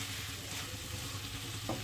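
Ginger garlic paste fries in plenty of hot oil, a soft, steady sizzle with light stirring, brief and fairly quiet.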